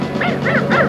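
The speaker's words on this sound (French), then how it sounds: "Attention, le chien s'enfuit!" A cartoon dog gives three quick, yappy barks in a row, close and clear, with no talking.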